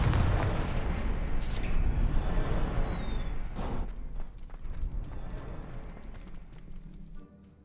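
In Hogwarts Legacy, the fire-blasting Confringo spell goes off as a loud, rumbling explosion that slowly decays, with crackling debris and game effects trailing behind it.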